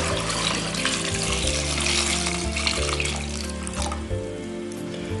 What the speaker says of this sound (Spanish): Ahora las cubro de agua.